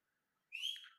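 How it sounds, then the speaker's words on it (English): A single audience member whistles a short, bright, rising note at a tech conference, close and clear after a brief quiet pause. "I'm seeing a lot of different whistles coming out."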